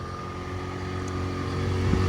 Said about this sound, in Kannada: ಇದು ಗಾಡಿ ಸ್ಟಾರ್ಟ್ ಮಾಡ್ತೀನಿ ನೋಡಿ.